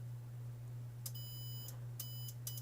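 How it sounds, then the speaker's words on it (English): Three short electronic beeps from a continuity tester, spaced about a second apart over a low steady hum, no talking. "I can't turn the beep off"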